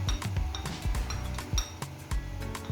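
A spoon stirs seasoning cubes, curry and spices through a pot of gizzard and fried plantain sauce, clinking repeatedly against the metal sides in a quick, uneven rhythm close by.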